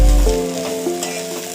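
Cluster bean curry with peanut powder is stirred in a pan, a close, continuous sizzle with scraping of the spoon over the cooking vegetables and no talking.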